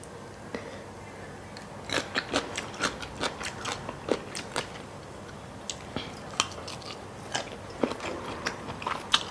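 Teeth biting and chewing through a thick, crispy snack sheet, close up: a long run of sharp, loud crunches at an irregular but steady pace, with no talking.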